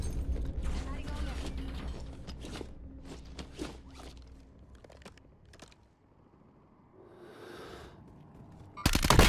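Armor plates are slotted on in Black Ops Royale, a run of short mechanical clicks and snaps up close, then a quieter whooshing rustle and a loud burst of game noise at the end.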